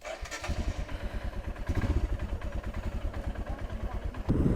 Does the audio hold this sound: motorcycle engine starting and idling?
yes